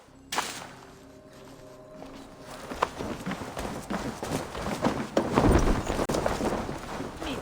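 Horses galloping in Assassin's Creed Valhalla, hooves pounding in a quickening rhythm that grows louder and closer, mixed with game ambience and scattered impacts, with no talk.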